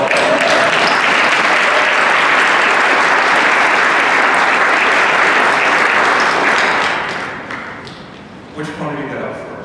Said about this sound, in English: Okay, now I'm going to applaud.